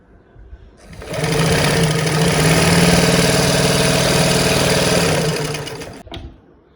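A sewing machine stitching a dart in a boat neck blouse, a fast even motor whir that starts after a second, holds loud for about five seconds, then stops, with no talk.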